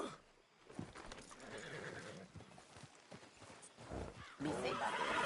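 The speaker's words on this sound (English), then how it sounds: "Damn horse acting up on me." A horse in the video game Red Dead Redemption 2 acting up, giving loud whinnies and snorts amid clopping hooves, with a voice speaking at points.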